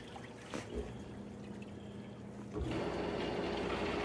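MAAX swim spa water jets running: steady low rushing and bubbling water, faint and distant, swelling noticeably louder midway.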